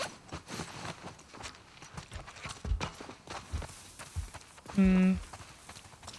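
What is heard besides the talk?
horse hooves walking in The Last of Us Part 2 video game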